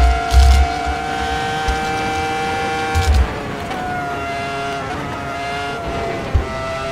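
A Ferrari F2004 V10 Formula One car in Assetto Corsa at Silverstone screams loudly and close, its pitch holding steady and dipping through gear changes, with a few low thumps along the way.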